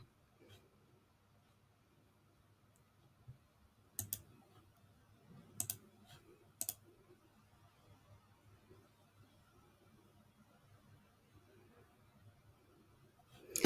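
Several sharp computer mouse clicks while saving a setting on a PC, a few isolated clicks spaced seconds apart over a quiet room hum, with a louder click at the very end.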